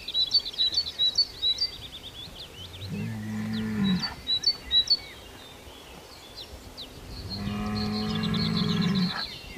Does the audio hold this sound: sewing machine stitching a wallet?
no